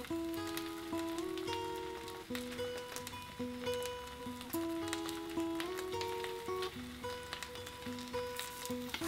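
Pieces of stingray sizzle steadily in an oiled pan, a dense crackling hiss that runs continuously under a melodic background tune, with no talking.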